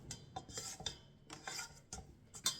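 Spatula scraping sticky, gluten-free and lactose-free brioche dough off the edges of a mixing bowl, a series of short, close rasping strokes with quiet pauses between, no talking.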